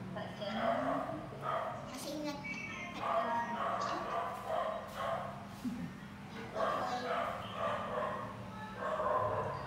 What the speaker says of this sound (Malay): anjingnya melihat anjing lain jadi suka berantem